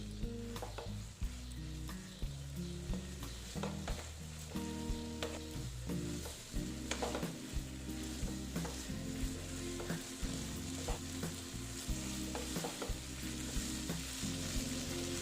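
Long beans stir-fried with spices in a pan give a continuous loud sizzle, broken by repeated scraping and stirring strokes of a spatula close up, with no talking.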